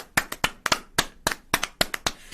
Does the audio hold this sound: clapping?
yes